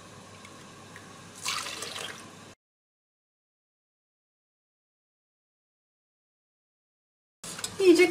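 Milk poured into a pot for a Turkish muhallebi and Kemalpaşa dessert, a brief liquid rush of about one second, then a long silence before a short splashy burst at the end.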